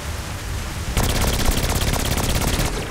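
A rapid-fire weapon in Saints Row 4 lets loose a fast, loud stream of evenly spaced shots for about two seconds over a noisy game background.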